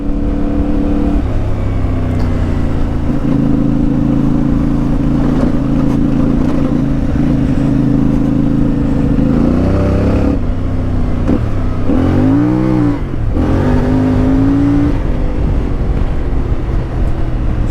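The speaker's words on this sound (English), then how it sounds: "Got such a great note to this bike." A CFMoto 450MT motorcycle engine drones loud and steady under way on a ride, holding a constant note before shifting pitch with brief revs and drops near the end, wind noise mixed in.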